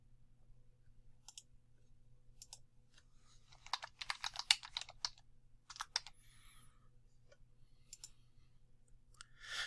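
Scattered bursts of key clicks come from a computer keyboard being typed on, soft and close, in short irregular clusters over a low steady hum, with longer pauses between bursts.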